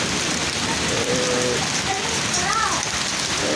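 Heavy rain and hail pour down steadily in a dense, even hiss over open green fields near Calgary, with a few faint voices in the background.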